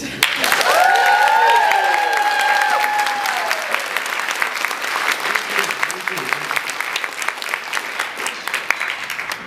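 Conference audience breaks into loud cheering and whistling over sustained applause, the clapping staying strong before tapering to scattered claps.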